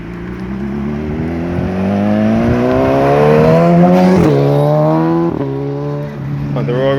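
Blue car turning on a street in Market Hill, St. George, Barbados, its engine rising and revving loudly nearby as it accelerates through the turn, with a faint tyre squeal.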